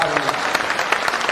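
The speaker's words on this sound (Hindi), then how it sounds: "बस एक बार पहले जोरदार ताली का स्वागत" An audience gives a loud burst of applause to welcome a speaker at a public gathering: dense, steady, close clapping with a voice heard alongside it.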